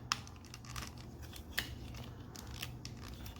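Plastic parts of a Transformers Studio Series 86-07 Dinobot Slag figure clicking together, a few small sharp clicks over quiet handling rustle.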